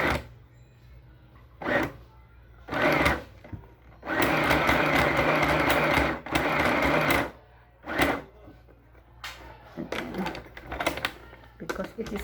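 A portable sewing machine stitches a buttonhole on a blouse placket in several short, whirring bursts of varying length, with someone talking in the pauses between runs.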